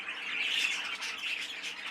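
A young light green budgie squawks in a continuous, fairly close burst of harsh chattering calls, with no talking over it.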